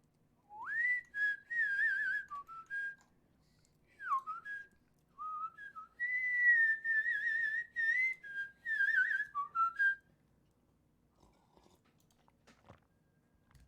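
A person whistles a tune in bright, pitched phrases of sliding and held notes, clear and close, followed by a few seconds of near silence.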